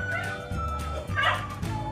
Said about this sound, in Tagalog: pasensya nyo yung aso, tumatahol